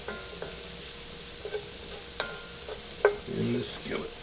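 Bacon grease and butter sizzle in a skillet, a soft steady hiss punctuated by several sharp clicks and scrapes of a utensil, ending with a louder clatter.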